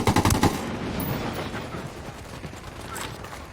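Rapid automatic gunfire bursts in the Ghost Recon Wildlands video game, loud and close in the first half-second, then a dense rumble of distant shots and action noise continuing underneath.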